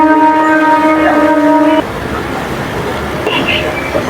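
The 08641 Adra–Barkakana MEMU special train departs Adra Junction with a loud tonal horn blast that cuts off, followed by rolling, rumbling train noise.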